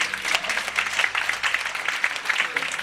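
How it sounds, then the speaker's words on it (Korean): A congregation at a Korean Presbyterian presbytery opening worship service at Bucheon Seomun Church gives sustained applause. The dense clapping keeps going at a moderate level, with some faint voices underneath. "우리 박수 한번 주세요"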